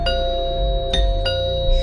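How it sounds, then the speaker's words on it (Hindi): A doorbell in a haunted apartment building rings in a few bright chimes, clearly audible over a steady humming tonal background with no voices. "तभी दरवाजे की घंटी बजी।"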